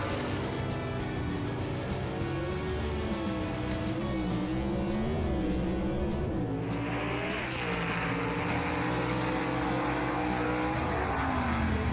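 A 1962 Comet and a 1967 Rambler gasser roar down a drag strip side by side, loud rising engine wails and gear changes, then a sharp surge into a harsh, raspy full-throttle blare with rapid exhaust crackle.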